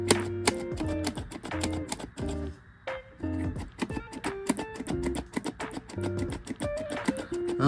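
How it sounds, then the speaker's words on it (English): Someone repeatedly clicks the green button on a Mr. Beast toy, producing a dense, uneven run of sharp plastic clicks and taps, close and fairly loud, with a brief pause partway through. "So you keep clicking this button"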